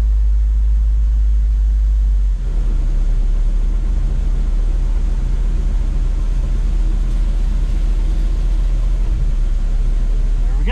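Farm truck hoist raising a corn-filled bed up its mast, steady loud low rumble of the idling engine and hydraulics with a slight change in pitch after the first couple of seconds, continuous throughout.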